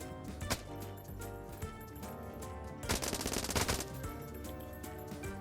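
Rapid automatic weapon fire in the sandbox video game Beyond, heard as dense rattling bursts over a busy in-game background, intensifying into a heavier volley near the end.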